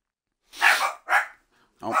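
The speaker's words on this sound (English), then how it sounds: "Dogs are hyped for Nick Pun's win." Dogs in a WWE 2K17 video game setting let out three short, sharp barks in quick succession with brief gaps between them, fairly close and clear, with no talking.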